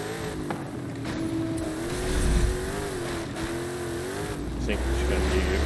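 Car engine in Forza Horizon 5 holding a steady droning tone that rises gradually as it accelerates, close and continuous, with a heavier low surge near the end.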